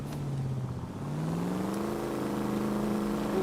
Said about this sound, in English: Ooh, listen to that V8.